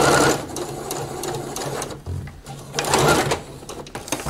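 A sewing machine top stitching a ruffle to a skirt runs in quick, steady mechanical bursts with a brief pause midway, heard up close with no talk.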